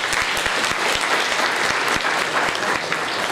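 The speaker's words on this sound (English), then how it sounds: "for both of them, a round of applause because it's very late in US." Audience applause at a panel discussion on emerging data science trends, a dense, steady wash of many hands clapping at close range, with no voices over it.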